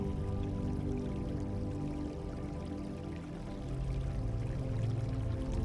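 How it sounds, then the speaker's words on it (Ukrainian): Steady, full water sound of a cool river flowing, dense and continuous at close range under a soft low background tone, with no voices. "Уяви, як ти заходиш у прохолодну річку."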